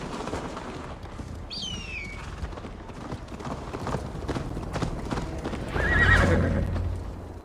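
Horse in Assassin's Creed Valhalla galloping with rapid, steady clip-clop hoofbeats, giving a clear high whinny early on and a louder snorting neigh near the end, with faint birdsong in the background.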